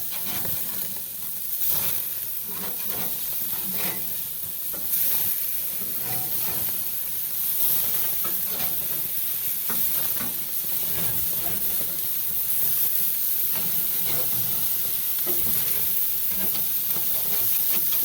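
Burgers sizzling on an outdoor grill in cold weather, a steady close hiss and crackle with occasional scrapes and taps as the patties are flipped.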